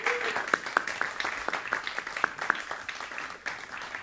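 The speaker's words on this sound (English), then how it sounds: "And another round of applause for our wonderful rhythm section." Quiet scattered applause in a hall for the rhythm section at a trombone jazz competition, a few distinct claps over a soft murmur of clapping.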